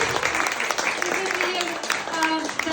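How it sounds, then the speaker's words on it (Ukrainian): A concert hall audience gives sparse, scattered clapping after a singer's performance. The claps are uneven and moderately close, and a voice talks over them. "Чому такі скупі аплодисменти?"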